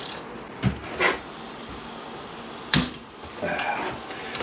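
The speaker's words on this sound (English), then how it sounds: "The last thing we need to remove now is the 10mm ones on the outside." A ratchet loosening the 10mm outer bolts on a 1998 Kawasaki ZX9R engine, a few short close metallic clicks and ratcheting bursts spaced across a quiet workshop.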